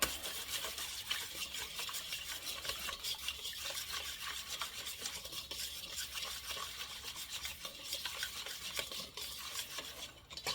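Ingredients for grilled Greek chicken are stirred together in a bowl, a quiet, continuous rhythmic scraping and rubbing of utensil against the dish with no talking.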